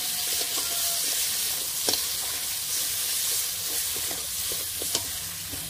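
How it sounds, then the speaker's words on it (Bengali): Ground spices with salt, turmeric, chilli, pepper, cumin and coriander-fennel powder sizzling steadily in a pan, with scattered scraping clicks of a spoon stirring through, close and continuous without talk. "এবার আগে নেড়ে দেবো।"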